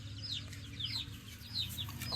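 Chickens, including Large Belgian Leggy and Australorp breeds, cluck and chirp close by in a backyard flock, with several short high calls repeating over a low steady background hum.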